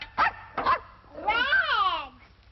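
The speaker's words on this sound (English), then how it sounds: "He's not a dog, Mother. He's only a puppy." A puppy gives two short, sharp yips close by, then a longer rising and falling whining bark, fairly loud against a quiet background.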